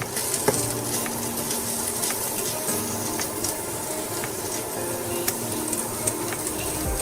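Tomato sauce cooking over low heat in a pan, a steady soft sizzle and bubbling with occasional light clicks and scrapes of stirring, no talking.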